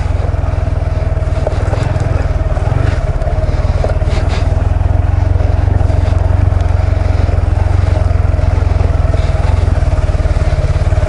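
A motorcycle engine runs steadily and loud while climbing a hill, a continuous buzzing drone with no pauses and no talk over it.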